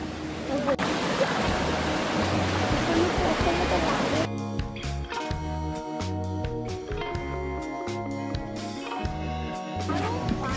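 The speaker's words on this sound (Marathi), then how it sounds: "एकदम धबधब्याचा आता आवाज येतोय पाण्याचा" The Zenith waterfall at Khopoli roars with loud, dense, steady rushing water for about four seconds, then cuts to other sounds with voices over a fainter water wash.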